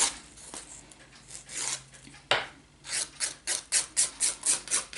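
Fingernails being filed with a nail file during a basic manicure, a series of short, quick rasping strokes that speed up into a steady rhythm toward the end, close and fairly quiet, with no talking.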